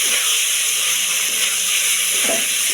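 Fish frying in hot spiced oil gives a steady, loud, close sizzle and hiss that carries on without a break, with no talking.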